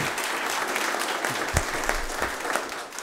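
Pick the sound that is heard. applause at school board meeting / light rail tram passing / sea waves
applause at school board meeting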